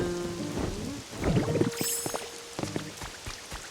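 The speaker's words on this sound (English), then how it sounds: "I have trouble hearing in the rain" Steady video game rainfall patters over a low rumble, with a few sharp clicks and tones breaking through in the middle; no one speaks.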